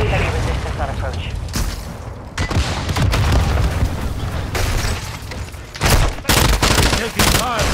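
Heavy gunfire and explosions in a Call of Duty battle near oil fields in a valley, dense overlapping shots and booms throughout, with voices talking amid the firefight.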